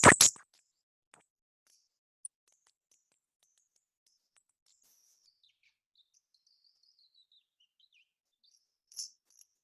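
Squeaky chirps from an Audubon twist bird call mimic a songbird: one loud burst at the start, a faint thin warbling trail afterward, then another brief chirp at the end.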